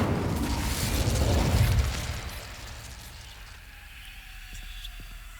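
The Incendio fire spell is cast in the Hogwarts Legacy video game, releasing a loud whooshing, roaring burst of flame that swells for about two seconds and then fades into a low rumbling tail.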